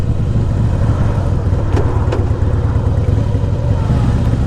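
A 2002 Harley Davidson Heritage Softail motorcycle engine slowing for a turn, a loud close rumbling throb under heavy wind noise, with no talk.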